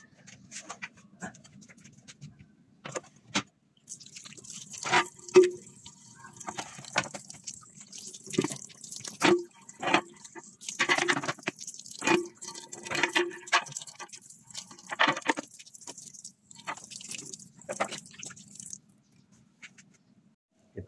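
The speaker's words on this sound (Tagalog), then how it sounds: "Ngayon, ibabasain natin dito guys sa lababo." Tap water running and dripping into a sink where tiles are soaking before a bathroom floor installation, with irregular splashes and trickles close by, over a low steady hum.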